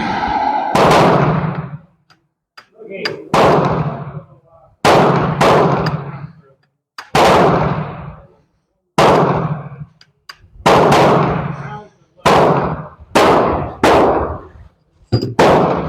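Mauser Spanish Civil Guard rifle firing outdoors, about a dozen loud sharp reports in an uneven series, each with a short echoing tail and brief silences between, no talking.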